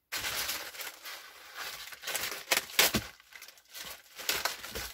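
A plastic packet from a parcel is handled and unwrapped, giving repeated crinkling rustles and sharp crackles in uneven bursts, close and fairly quiet.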